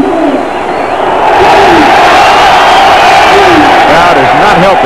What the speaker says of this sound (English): Crowd is not helping Dave Norrie.